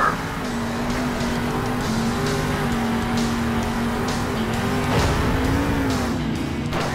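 Monster truck engine in the Monster Jam Steel Titans video game, a loud steady droning motor with shifting pitch and rough thuds as the truck lands a jump.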